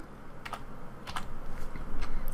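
Numpad keys tapped on a computer keyboard during 3D modeling work, a few light, close clicks in small clusters over a steady low room hum.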